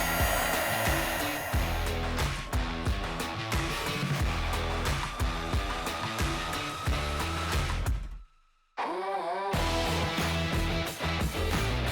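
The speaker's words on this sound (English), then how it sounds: "now all we need to do is heat up the ends of these butt connectors, and that shrink tube will go ahead and form around the wire" A heat gun shrinks heat-shrink tubing on butt connectors for LED lights on Amp Research power steps. Its loud, steady blowing roar runs close and continuous, cuts out briefly, then resumes.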